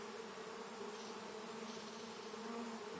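A honeybee swarm being captured drones in a steady, dense buzz, many bees humming together close by with no break or voices.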